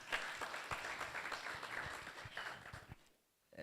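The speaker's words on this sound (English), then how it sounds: "Let's give her a round of applause." Audience applause after a talk, a quiet patter of clapping lasting about three seconds before fading into near silence.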